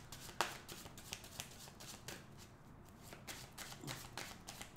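Soft, close riffling and sliding of tarot cards being shuffled and drawn, a steady papery texture with faint taps and snaps, quiet and without speech.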